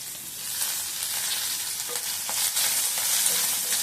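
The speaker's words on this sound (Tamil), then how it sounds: "வெங்காயம் இதெல்லாம் போட்டு இது நல்லா வதங்கினதுக்கப்புறம்" Onions with green chilies sauté in a pan, giving a loud, dense, continuous hissing sizzle that stays steady and close throughout.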